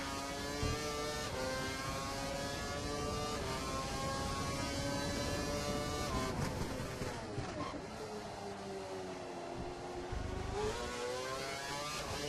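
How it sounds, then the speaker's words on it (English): F1 2012 race car engine held at full revs, a continuous high-pitched whine with layered harmonics and a slight dip and rise in pitch midway, steady and loud throughout. "We think the car behind is running on full revs."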